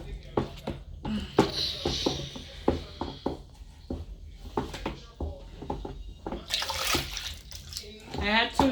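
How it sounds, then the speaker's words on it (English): Water poured into a homemade liquid laundry detergent mixture, bursts of splashing and gushing between pauses, with people talking in between. "I'm going to add water to it."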